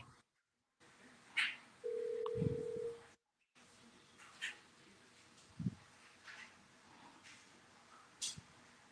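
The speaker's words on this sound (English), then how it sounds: "I got a phone call." A telephone signal sounds during a call, a short steady tone followed by faint blips and clicks over a quiet line hiss, with silent gaps, and no talk over it.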